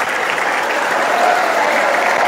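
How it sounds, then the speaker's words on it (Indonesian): An audience of students and teachers at a Teachers Day event in an Aceh pesantren claps for a student, a dense, even burst of applause filling the room at steady loudness. "tepuk tangan untuk kawan kita duduk paling belakang"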